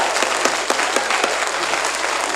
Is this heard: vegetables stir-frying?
no